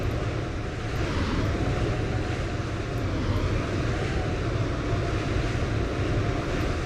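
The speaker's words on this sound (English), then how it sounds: "Some guy's got some loud engines." Loud aircraft engines drone in a flight simulator game at an airport, a steady, heavy low rumble with a broad roar that holds constant without letup.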